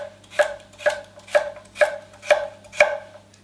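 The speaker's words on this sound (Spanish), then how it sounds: "cortaríamos la zanahoria por la mitad y por la mitad de nuevo" A kitchen knife chops a carrot into quarters: six crisp, evenly spaced strikes against a cutting board, close and clear with no talking.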